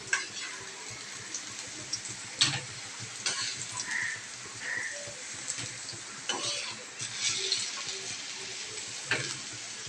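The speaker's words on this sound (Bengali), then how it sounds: "আলুগুলো আমার এখন ফ্রাই হয়ে এসছে" Potato pieces frying in oil in a pan at home, a steady sizzle broken by scraping and clinks of a utensil lifting them out, close with faint background sounds.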